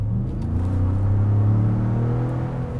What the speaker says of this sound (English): So now let's talk about this EcoBoost engine. I'm just going to floor it.